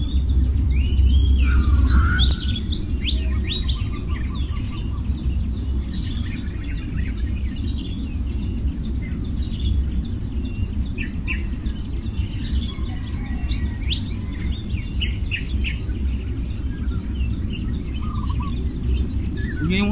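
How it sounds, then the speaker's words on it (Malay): A female jungle fowl (ayam hutan) calls in tropical forest during fishing: scattered bird chirps ring out over a dense, constant bed of insect and cricket noise. "Bunyi burung ya."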